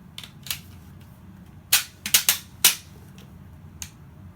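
Airsoft rounds being scooped and pushed into an ETS magazine with a C.A.M. mag loader, a series of sharp, close plastic clicks and snaps, a few light ones and then a loud cluster, with no talk.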